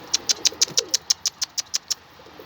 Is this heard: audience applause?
no